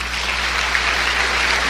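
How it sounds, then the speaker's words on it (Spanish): A church congregation applauds the Lord during a Spanish-language sermon, a dense, steady wash of many hands clapping together at close range for a short burst, with no voices over it. "Dele un aplauso al Señor."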